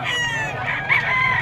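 Roosters crow loudly and close at a pet market, with overlapping cock-a-doodle-doo calls and clucking filling the short moment.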